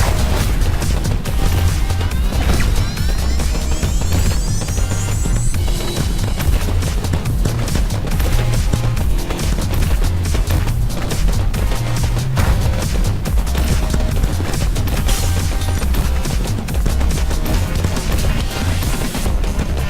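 Dense gunfire and repeated explosions in the shooter game Starward Rogue, loud and continuous with rapid blasts, booms and crashing hits layered together for the whole stretch, no talking.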